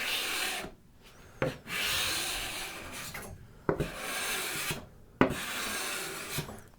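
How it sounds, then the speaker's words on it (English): A card scraper shaves fine curls from a wooden box workpiece in long raspy strokes, several close scraping passes separated by short pauses and a few sharp knocks, with no talking. "And so it is actually planing the wood."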